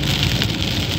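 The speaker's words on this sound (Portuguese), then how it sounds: "Começa a chover aqui na zona norte da cidade, aqui no aeroporto." Rain begins falling at the airport in the north zone of Porto Alegre, a dense, steady patter on surfaces with a low rumble beneath, fairly loud and with no voices.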